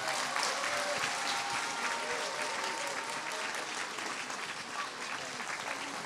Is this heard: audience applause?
yes